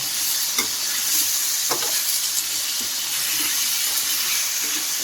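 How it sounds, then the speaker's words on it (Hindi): Steady, dense sizzling of spices tempering in hot oil for an aloo baingan (potato-eggplant) dish, with occasional soft stirring clinks and scrapes, close up with no talking. "तड़का लग गया मेरा।"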